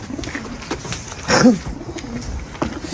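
A play pigeon in a coop in Mardin, Turkey, gives a brief, low cooing call amid soft background noise, close by and moderately loud, lasting under a second.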